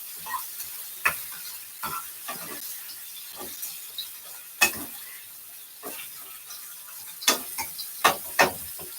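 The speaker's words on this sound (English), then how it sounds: "I'm just sauteing some tuna, some onions and peppers and stuff" Tuna, onions and peppers sauteing in a pan, a soft steady sizzle broken by scattered sharp clicks and scrapes of a utensil stirring, with no talking.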